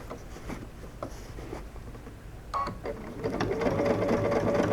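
Sewing machine stitching the seam of a fabric bucket hat, a quick mechanical chatter that runs in short bursts and grows louder and steadier toward the end, with no talking.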